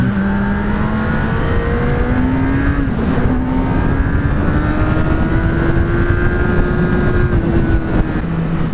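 A 2016 Kawasaki ZX10R motorcycle engine roars loudly and steadily throughout, its pitch climbing gradually as it accelerates, then easing off near the end, close and dominant with no talk.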